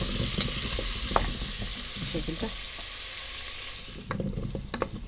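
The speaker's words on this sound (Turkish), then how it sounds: "Onları tereyağıyla böyle güzelce kavuracağım." Steady sizzling of onions and garlic frying in butter in a pan, with occasional stirring clinks and a short spoken phrase near the end.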